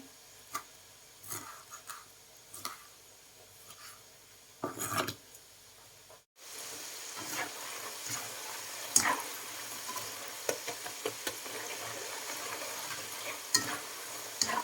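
Potatoes for french fries deep-fry in hot oil: scattered scraping knocks at first, then after a short gap a steady, fairly faint bubbling sizzle with occasional pops, and no speech.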